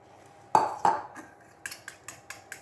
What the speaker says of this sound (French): Au moyen d'une fourchette, on va mélanger grossièrement tout ça